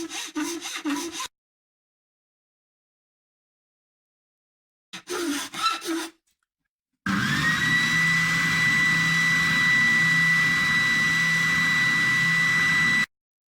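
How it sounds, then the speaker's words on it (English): Sandpaper works the transition on a wooden coffin-shaped guitar neck in two short bursts of rapid rasping strokes separated by silence, followed by a steady, whining power tool running for several seconds. "I've sanded that transition in there."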